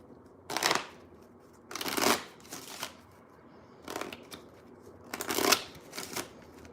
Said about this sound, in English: Let's pull some timing cards.